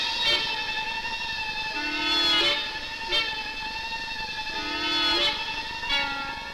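Early twentieth-century train from a 1905 film's car-versus-train race, its steam whistle sounding in repeated sustained harmonic blasts over a steady rolling rumble, moderately loud with no speech.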